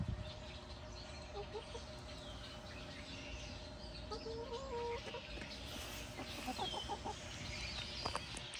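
Chickens clucking close by, a few scattered soft clucks and brief calls over a quiet farmyard background.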